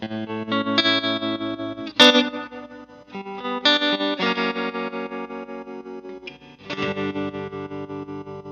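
Electric guitar chords through an optical tremolo pedal ring out with a pulsing, wavering effect, sustained and distorted, each strum throbbing rhythmically as it decays.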